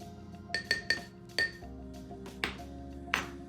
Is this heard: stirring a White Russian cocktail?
yes